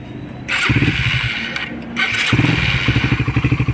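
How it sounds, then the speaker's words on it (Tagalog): Motorcycle engine being started, with a couple of cranking attempts and a starter whir before it catches and settles into a loud, close, rhythmic thumping idle. "ito na tunog ng makina ni boss"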